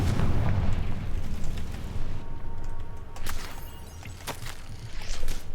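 A Confringo fire spell explodes in the Hogwarts Legacy video game with a loud low boom at the start. Rumbling debris and crackling bursts follow and keep going for several seconds, with no one talking.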